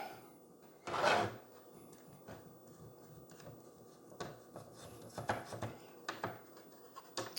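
Screws being unscrewed from a Super Famicom cartridge shell: one louder scrape and clack near the start, then a run of small ticks, rattles and scratches close by, with no talk.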